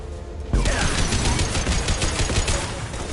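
Rifle fire in Mass Effect 2 erupts after a brief quiet moment into a loud, rapid burst of repeated shots, with close, crackling impacts and no talk over it.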